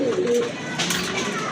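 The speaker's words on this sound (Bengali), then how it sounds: "আরেক জোড়া কবুতর" A pair of domestic pigeons at a pigeon sale, among satin, grizzle and beauty homer birds, coos close by in low, throaty, rolling calls. A faint background murmur runs underneath.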